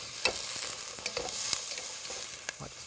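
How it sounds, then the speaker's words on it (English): A pan of sweet potato curry sizzles steadily while a spoon stirs it, with several scraping strokes and soft clanks over the close, continuous frying hiss. "Just give this guy a little bit of a stir."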